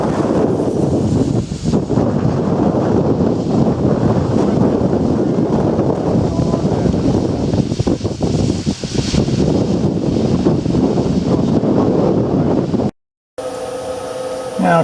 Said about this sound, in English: I was outside cleaning up this oil sump, and it is windy out today.